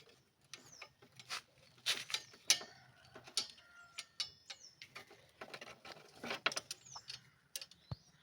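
A ratchet wrench with a 12 mm socket tightens an exhaust bolt on a Yamaha R15 V3 BS6 motorcycle fitted with a full-system exhaust. Close, crisp bursts of clicking come in irregular short runs with quiet gaps between them.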